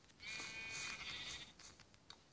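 A sheep in Minecraft Pocket Edition bleats in a single drawn-out call, fairly close and clear over a faint background hum.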